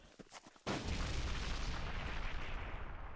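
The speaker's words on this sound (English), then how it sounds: "What are you shooting at?" Troops firing in the real-time strategy game Enemy Nations: a few soft thumps, then a sudden loud, dense roar of gunfire and blasts that continues without letup.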